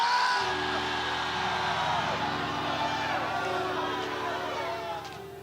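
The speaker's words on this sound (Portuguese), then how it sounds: "Grita, mas grita alto. Grita!" Church congregation at a Portuguese-language sermon shouting loudly together, a sustained roar of many raised voices that holds steady for several seconds before easing slightly at the end.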